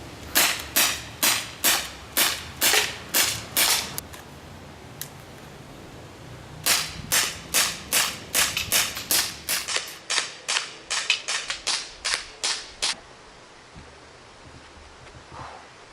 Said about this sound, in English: Now, and I'm going to start shooting.